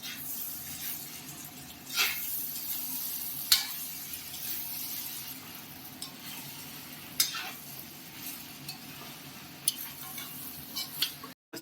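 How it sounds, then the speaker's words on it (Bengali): Cooked rice is stirred and fried in a wok, with a soft continuous sizzle and occasional sharp scrapes and clinks of the spatula, close by and without talk. "যত এটা ফ্রাই হচ্ছে মেশানো হচ্ছে ততটা ভালো লাগবে"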